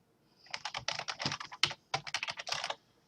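Quick bursts of keystrokes clatter on a computer keyboard as a title is typed, in two uneven runs separated by a brief pause, close and clear with no talking.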